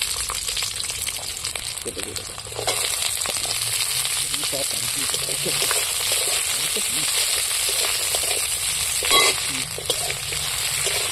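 Chopped onions frying in oil in a pan, a continuous close hiss of sizzling with occasional stirring scrapes and small pops, steady throughout.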